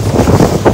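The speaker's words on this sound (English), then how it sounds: "it's windy up here" Wind roars hard across the microphone at sea aboard a 5 m Capelli Tempest 500 RIB running at about 15–20 mph in one-metre seas, a loud, close buffeting rumble with gusty swells.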